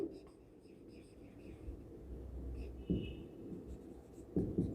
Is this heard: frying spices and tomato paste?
no